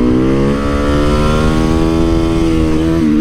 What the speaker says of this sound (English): Busting wheelies.